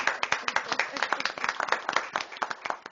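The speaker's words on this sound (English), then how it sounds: "Go ahead and start clapping your hands." An audience claps along at a city council meeting, honoring a high school band: a rhythmic run of fairly close hand claps with a steady beat and some voices beneath.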